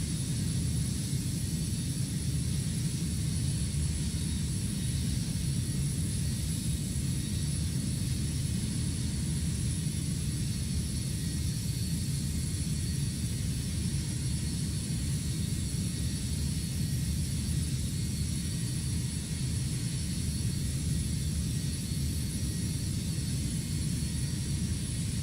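A Boeing 727-200 in Microsoft Flight Simulator 2024 climbs out after takeoff, its jet engines a steady loud roar with a high whine on top, unbroken for the whole stretch with no voices.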